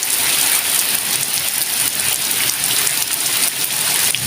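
Heavy, dense monsoon rain pouring steadily with a constant broadband hiss, loud and close, no voices.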